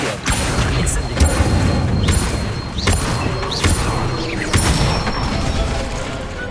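Spells cast in the video game Hogwarts Legacy make a series of loud, spaced bursts, each a sharp whoosh and thump arriving roughly every second over a busy rumbling background.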